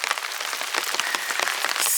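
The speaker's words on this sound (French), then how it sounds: "Alors il pleut" Rain falls at a temple in Japan, a dense, constant patter of drops striking nearby surfaces, fairly loud and without pause, with no voices.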